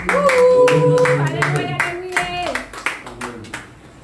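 Church congregation clapping and acclaiming during a French-language worship service, sharp claps in a loose rhythm under sustained singing or chanted voices, moderately loud and close throughout.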